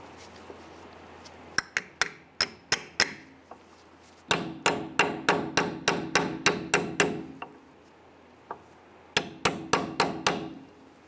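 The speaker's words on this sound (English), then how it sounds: "With this torque, install the cap. I want to go ahead and tap this on evenly." A dust cap is tapped onto the wheel hub of a 1994-2004 Ford Mustang with a hammer, giving sharp metallic knocks in three quick bursts of evenly spaced strikes, close and loud, with no talking.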